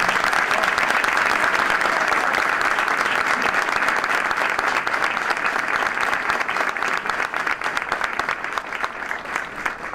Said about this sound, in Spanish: Un aplauso para Uco.